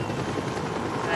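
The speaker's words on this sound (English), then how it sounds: "A nearby golf course became the landing zone for the Lifeline helicopter." A Lifeline rescue helicopter landing on a golf course makes a loud, steady rotor roar that fills the air, close by and unbroken throughout.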